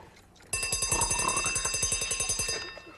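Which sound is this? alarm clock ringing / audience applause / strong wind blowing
alarm clock ringing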